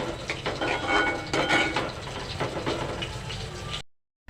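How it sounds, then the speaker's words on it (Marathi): A spoon scrapes and clatters steadily as spicy Kolambi prawn masala with fresh coriander is stirred in a pan. The close mixing sounds continue for about four seconds, then cut to silence. "वरून कोथिंबीर घाला आणि छानपैकी मिक्स करा"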